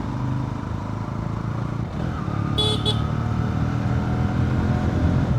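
A Honda CB Hornet 125cc motorcycle cruises in second gear with a rider and passenger aboard, giving a steady, close engine drone with road rumble and a brief honk from passing traffic.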